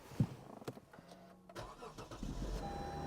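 A used Mercedes or Lexus salvage car at an auto auction yard starts with a short crank and catches, then settles into a steady idle that carries on close by.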